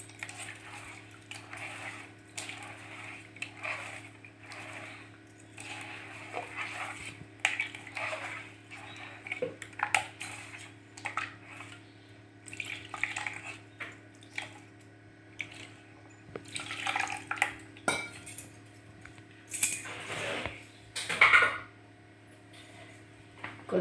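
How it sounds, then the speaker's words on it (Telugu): Fish pieces being mixed by hand in a bowl with chili powder and salt for Rayalaseema chepala pulusu, giving soft squishy rubs and occasional clinks of a utensil against dishware, fairly quiet and irregular, with no talking. "2 స్పూన్లు కారం పొడి, ఉప్పు సరిపడా ఉప్పు వేసి అంతా బాగా కలియాలి"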